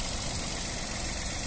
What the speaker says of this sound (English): Engine sound nice and smooth.